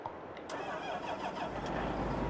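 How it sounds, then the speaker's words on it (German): A tractor engine in Farming Simulator 22 cranks briefly and catches, then settles into a steady, close, rumbling idle for about two seconds. "dann werden wir schon mal den Trecker klar machen."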